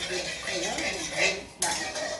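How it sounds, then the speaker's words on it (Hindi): A spoon stirs sugar and water in a pan, scraping softly with a sharper clink of metal near the end. "बस आप इसको मिलाते रहेंगे"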